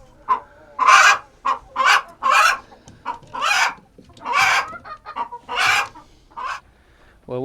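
Chickens at a homestead chicken house cluck and squawk loudly and up close, in a run of about a dozen uneven bursts with short pauses between them.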